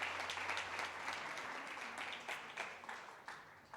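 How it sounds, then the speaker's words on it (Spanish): A church congregation claps in steady applause that stays fairly even, heard from a distance and somewhat faint, with no voices standing out. "Dale un aplauso a Él"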